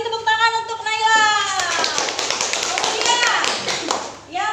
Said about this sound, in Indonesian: Kita beri tepuk tangan untuk Naila.